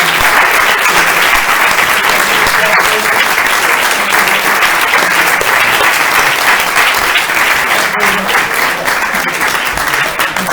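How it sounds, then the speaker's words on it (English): Steady, dense audience applause at a climate forum held at the Durham Unitarian Universalist Fellowship, loud and continuous for the full length with no break. "Let's have another round of applause."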